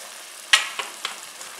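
Ground cumin stirred into chili cooking in a pot: a sharp spoon scrape followed by a few softer stirring strokes over a faint, low sizzle.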